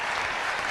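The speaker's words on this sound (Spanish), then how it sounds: "Sí, un aplauso, por favor." A studio audience claps together in a brief, steady burst during a televised political interview, the sound dense and even with no voices over it.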